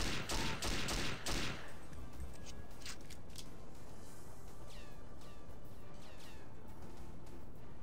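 Gunfire in the PC shooter James Bond 007 Nightfire, a loud rapid burst of shots at the start that cuts off, followed by a long stretch of quieter game ambience with faint scattered impacts.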